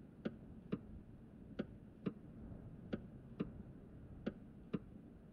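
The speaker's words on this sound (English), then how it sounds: "You will even be able to hear the clock ticking." A save-point clock in the video game Pathologic ticks steadily, eight crisp ticks falling in loose pairs over a faint background hum, quiet and alone.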